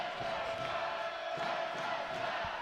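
High school volleyball crowd in a gym in Allen cheering between points, a steady broad roar of many voices with scattered shouts, fairly loud and continuous throughout.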